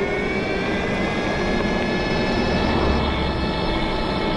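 A Himiway Cobra Pro 1000W mid-drive electric bike accelerating in first gear, a steady loud whirring drone with constant wind rush and no clear pauses, no talking.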